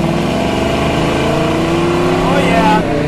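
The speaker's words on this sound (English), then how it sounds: "Listen to that engine." A 1968 Pontiac Firebird with a 400 engine, driven through Hong Kong streets: a loud, continuous V8 roar rising and falling in pitch as it revs and shifts, with a voice talking over it.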